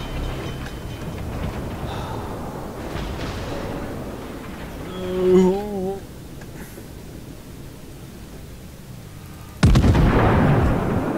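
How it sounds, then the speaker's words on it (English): Naval gunfire from World of Warships, heard as a sharp, loud broadside blast that lands late and holds, following a stretch of muffled game rumble and a brief whistling tone, with a voice talking over parts of it. "Stop shooting at me."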